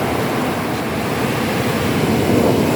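Big sea waves during a typhoon in Palawan roar as a steady, loud, broadband rush close by, with continuous surf and wind noise and no distinct individual breaks.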